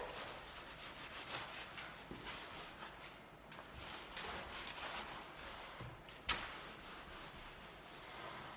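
A cloth rubs wax onto an antique European wooden door in steady, close, soft scrubbing strokes, with one sharp knock partway through and no talking.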